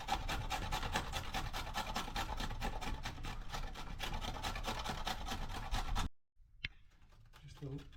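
Carrot is grated by hand on a grater for a spicy Indian cake, making a close, rhythmic scraping of quick repeated strokes that stops abruptly, followed by quiet handling and a faint voice.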